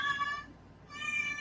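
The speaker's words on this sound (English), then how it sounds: "Wow, that cat hates Psywar" Two drawn-out cat meows, one at the start and one at the end with a brief quiet gap between, fairly near and moderately loud, with no talking.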